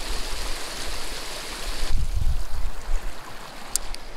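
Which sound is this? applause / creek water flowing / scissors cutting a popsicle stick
creek water flowing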